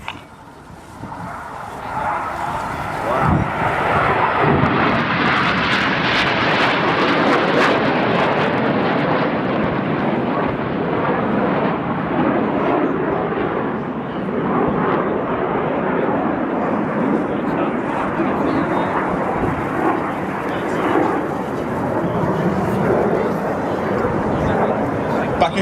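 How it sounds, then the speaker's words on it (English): Red Arrows jet aircraft barrel rolling at an airshow in Perth, a loud, sustained broadband jet roar that swells and holds steady throughout, with a faint voice beneath it. "Here we see Red 1 Jace barrel rolling around the wings of the formation"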